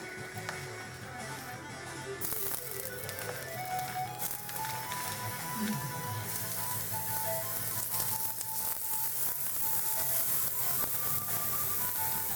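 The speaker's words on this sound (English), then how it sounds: "I'm just gonna throw the hot dogs in there and let it cook." Hot dogs sizzle quietly in a preheated microwave browning dish, a faint steady crackle and hiss that grows a little over time.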